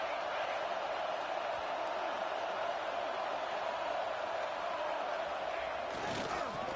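Steady stadium crowd roar in an NCAA college football video game, a constant wash of distant cheering with a commentator talking over it.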